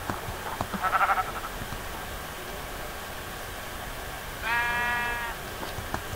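Two sheep bleats from the Minecraft video game, one short call near the start and a longer one a few seconds later, heard over a constant hiss of background noise with no talking.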